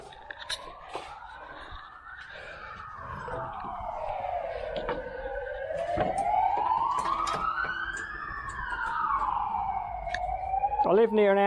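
An emergency siren wails up and down in long sweeping cycles, fairly distant, with traffic rumble and a few knocks nearby.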